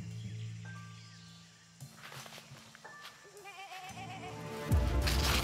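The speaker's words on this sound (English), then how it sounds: "I'm hearing a goat." A goat bleats somewhere outdoors on a treasure-island survival show, a short wavering call rising over rustling and hushed movement, then a louder burst of noise near the end.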